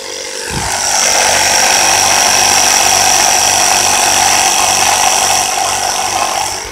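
A portable air compressor inflates a plugged van tire, starting with a click and then settling into a loud, continuous mechanical drone that runs steadily to the end.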